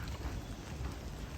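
Rain falling outdoors near a greenhouse among trees, a steady, dense patter with a low rumbling undertone throughout the brief moment.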